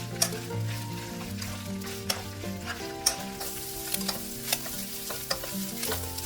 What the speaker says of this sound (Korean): 팬에 기름을 넉넉히 두르고 꼴뚜기를 노릇하게 익을 때까지 충분히 볶아 접시에 담아냅니다